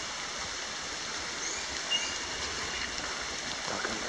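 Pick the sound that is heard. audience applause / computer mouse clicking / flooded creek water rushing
flooded creek water rushing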